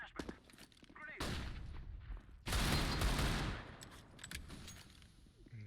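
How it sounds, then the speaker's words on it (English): Desert Eagle pistol fire in CS:GO, with short loud bursts of rapid shots broken by quieter gaps, close and harsh, mixed with other game noise and no clear talk. "we spammed this guy down with the deagle"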